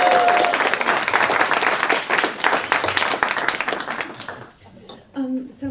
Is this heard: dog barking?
no